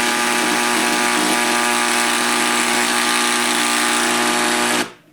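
A power tool grinds steadily, close and loud, as it cuts old grout from between tiles, then stops abruptly near the end.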